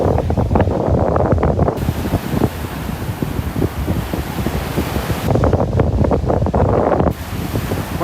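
Ocean waves wash onto a beach in North Naples, Florida, in a loud, continuous surf roar thickened by strong wind buffeting on the microphone, with surges rising and easing and no voices.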